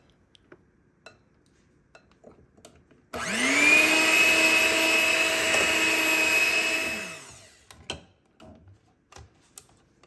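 Electric mixer whirs at high speed for about four seconds, beating eggs one at a time into batter in a quiet kitchen, with faint clinks and taps before and after.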